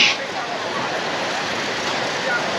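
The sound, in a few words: ocean waves on the beach at Cox's Bazar in the evening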